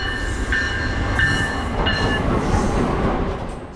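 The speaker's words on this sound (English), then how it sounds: "Amtrak Regional Train 167 with a friendly engineer glides by westbound on track 2." Amtrak Regional Train 167 rolls westbound on track 2 at dusk, a steady close rumble of wheels and cars with faint high squeals, swelling slightly and then easing as it passes.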